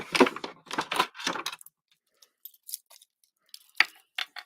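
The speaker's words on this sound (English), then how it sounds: "Just going to grab my scissors" A few crisp scissor snips in quick succession cutting through paper, followed by quieter scattered clicks and small rustles.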